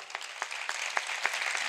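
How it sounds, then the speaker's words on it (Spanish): An audience at a flamenco festival in San Pedro Alcántara claps at night, a short burst of crowd applause with sharp individual claps standing out over a dense, fairly close patter. "Y ahora sí, un aplauso, el mayor de la noche, para Paco Álvarez."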